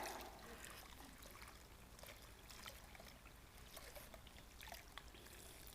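Water poured over food in a sieve during an outdoor vegetarian cooking demonstration, a soft continuous splashing trickle with faint spatters, steady and fairly quiet with no talk.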